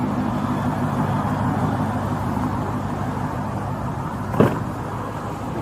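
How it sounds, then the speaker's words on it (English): A parked car's engine idles with a steady low hum and rumble. A short knock or bump sounds near the end, and no one speaks. "Oh, did they leave the car on?"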